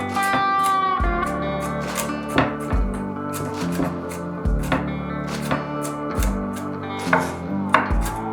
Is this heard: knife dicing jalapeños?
yes